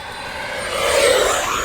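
Electric RC airplane making a full throttle pass on a calm day, a high whining motor and propeller buzz swelling louder as it passes close by, heard alone.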